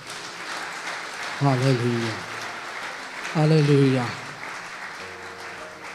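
Church congregation applauding during a Hindi-language worship service, a steady wash of clapping running beneath a worship leader's amplified voice chanting praise twice over the crowd.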